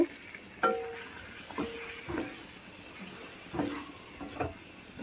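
Chicken is stirred in a frying pan over a faint, low sizzle, with several distinct spatula scrapes and knocks spaced out across the few seconds.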